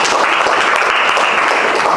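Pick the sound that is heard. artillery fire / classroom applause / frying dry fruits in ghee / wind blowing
classroom applause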